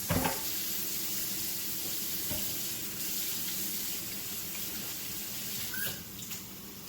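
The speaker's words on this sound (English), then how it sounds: "let me just wash my hands" Water runs steadily from a sink tap as hands are washed in a home kitchen, a continuous close rushing hiss with a few faint clinks and no voices.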